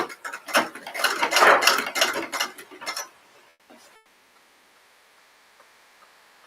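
A sewing machine backstitches fabric strips for piping, giving about three seconds of rapid, close mechanical ticking and whirring before it stops and leaves near silence.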